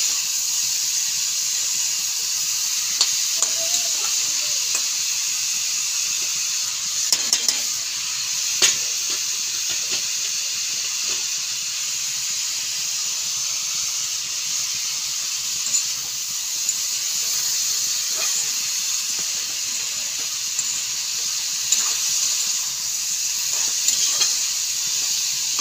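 Boiled cabbage and potato sizzle steadily in a hot pan, a constant loud hiss with occasional faint pops and clinks throughout, no voices.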